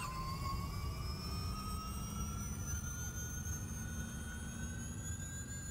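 Formula E electric race car in the game Automobilista, accelerating at Circuit de Catalunya with a steady high electric whine whose tones rise slowly, over a constant rumble of road and wind noise.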